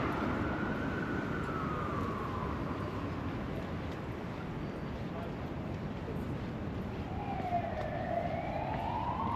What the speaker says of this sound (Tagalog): ambulance siguro.